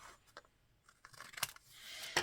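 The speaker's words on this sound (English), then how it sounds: "going to make a straight cut right there with my scissors" Scissors snip through a sticker on a bullet journal page, several short crisp cuts and rustles spread across a couple of seconds, close and fairly quiet.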